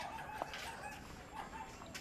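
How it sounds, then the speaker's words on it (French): Birds at an outdoor spot where geese are present give a few short honks and clucks over steady background noise, one sharper call standing out near the start. "Ah, il y a des oies ici."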